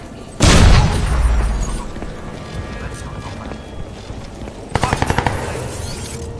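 In the Crysis 2 video game, a grenade explodes with a heavy close boom that rumbles and fades, followed a few seconds later by a sharp rattling burst of automatic gunfire, with a voice shouting over the action.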